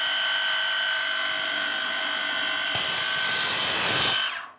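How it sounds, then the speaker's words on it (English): An automated drilling machine bores holes for furniture fittings with a steady, high whine that holds for several seconds. It swells into a rougher, louder grinding as the bit cuts, then stops abruptly. "Then we push the button for the next drilling."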